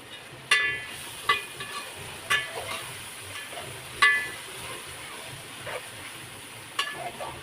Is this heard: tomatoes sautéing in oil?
yes